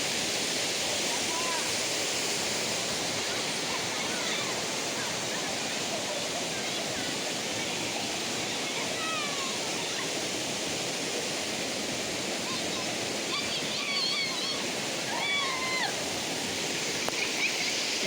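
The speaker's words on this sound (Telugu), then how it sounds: "ఇక వాటర్ ఇలా కిందకి వెళ్ళిపోతుంది." Water pours down continuously at Kotha Palli waterfall, a dense, loud, steady rushing roar close by that fills the whole stretch, with faint bird chirps on top and no voices.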